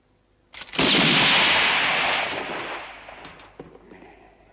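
A single sharp report with a long rolling echo from the gunfire of a Western gunfight, loud and close, then decaying over several seconds into quieter rustling.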